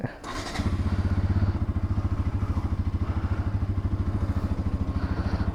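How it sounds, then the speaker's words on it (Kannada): A motorcycle idles to warm up before a monsoon ride, its engine starting with a brief rough burst then settling into a steady, close, rhythmic putter that continues alone throughout. "ಗಾಡಿ ಸ್ವಲ್ಪ ವಾಮ್ ಅಪ್ ಬಿಡಬೇಕು"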